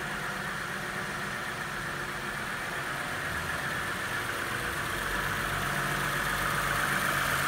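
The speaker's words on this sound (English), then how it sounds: "It's got a slight lifter kick to it, but it's not too bad." A 1992 Acura Legend's 3.2 liter V6 runs steadily at idle with a slight lifter tick, a constant close mechanical hum heard alone without talk.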